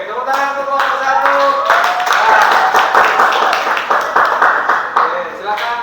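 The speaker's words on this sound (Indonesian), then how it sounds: "Oke, tepuk tangan untuk kelompok 1." A class group in a school arts lesson gets clapping from classmates, a burst of dense hand claps near and loud, with a voice speaking over the start and cheering mixed in.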